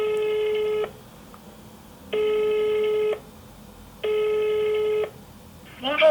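A French telephone ringback tone sounds on an outgoing call, three long evenly spaced tones with pauses between, followed by a brief voice at the end.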